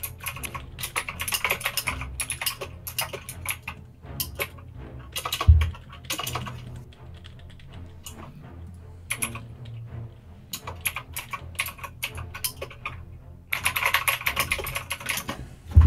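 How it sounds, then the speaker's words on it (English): Loud computer keyboard clacks in fast, irregular bursts of typing, close to the microphone, with short pauses between flurries and a few heavier thumps. "I'm sorry if you can hear my horrible loud keyboard"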